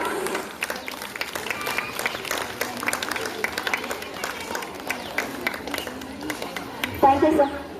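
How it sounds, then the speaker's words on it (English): Parents and audience at a school Kids Day and investiture ceremony applaud the runners, a dense, sustained round of clapping with crowd chatter and voices underneath. "Parents, give them a big round of applause."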